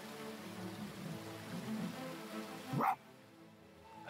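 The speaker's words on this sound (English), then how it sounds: "I have to bark at it." A single short dog bark in the video game Spirit of the North, loud and close, rising out of a steady rain-like ambience before the background drops away.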